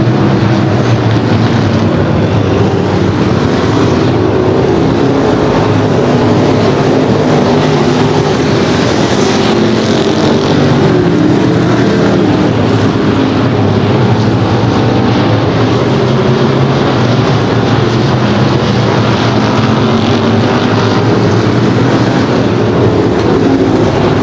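A pack of race cars at a night short-track race roars steadily past, a continuous loud, droning engine rumble with no pauses and no voices.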